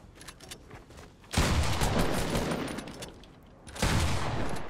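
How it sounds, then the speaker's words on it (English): Automatic gunfire in a video game, two loud sustained bursts of rapid shots, the first long and the second starting near the end, with quieter game noise between them. "It just shot automatically."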